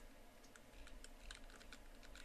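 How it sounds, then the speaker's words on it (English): Arrow keys on a computer keyboard are tapped repeatedly while nudging an image in Photoshop. The presses are quiet, light clicks, irregularly spaced, over a soft steady background hum. "I'm going to simply use the arrow keys on my keyboard to move my eye up"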